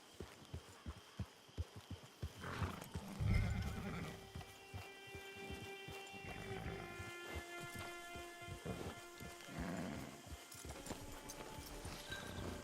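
Horse hooves clip-clop in a steady rhythm in Red Dead Redemption 2, with a whinny partway through, set against rain and rumbling thunder in the game's background.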